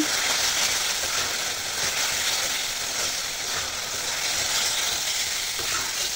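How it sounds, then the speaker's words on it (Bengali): Potatoes fry in a spice paste, giving a loud, dense, continuous sizzle with faint stirring underneath throughout. "এখন এখানে আলু দিয়ে দিচ্ছি। আলু দিয়ে ভালো করে নেড়ে চেড়ে নিচ্ছি।"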